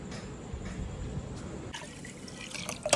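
Water and Rooh Afza syrup pour into milk in a container, a soft continuous trickle and splashing fill heard close and fairly quiet, with a few clinks near the end and no talk.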